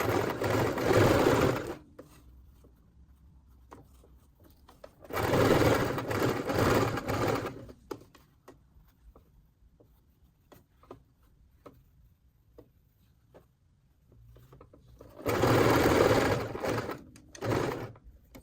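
Sewing machine stitching a military garrison cap, three separate loud bursts of rapid stitching with quieter handling sounds between them, close by.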